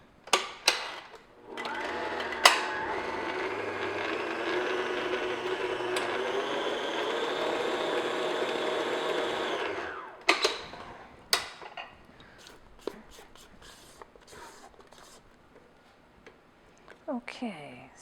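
An electric mixer beats German chocolate cake batter in a bowl, a steady loud whir lasting about eight seconds before it stops, followed by clinks and knocks of utensils.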